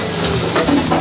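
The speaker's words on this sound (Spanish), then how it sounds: "Preparamos nuestro sartén con un poco de mantequilla para preparar el huevito que va a llevar nuestra torta" Butter sizzles steadily in a frying pan as it heats for cooking an egg for a Toluca-style torta, a close, continuous crackle with faint clinks of the pan.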